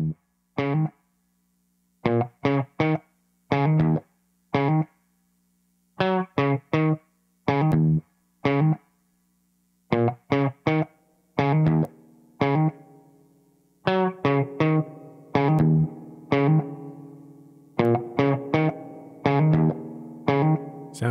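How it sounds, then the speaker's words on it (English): Electric guitar through a Pioneer SR-202W spring reverb plays short clipped chords and riffs with gaps between phrases, each note trailing into a splashy, metallic reverb tail that grows denser later on. "if there's one instrument that likes spring reverb, it's guitar."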